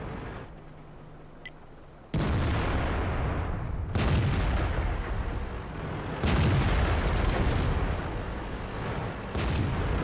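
Heavy tank cannons boom back and forth in a World of Tanks battle on a heavy line, loud blasts every couple of seconds over a constant rumbling din.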